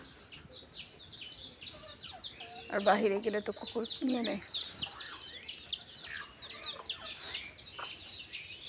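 Tethered turkey chicks cluck in a home courtyard, soft repeated calls rising through the middle of the stretch while a person talks nearby over them.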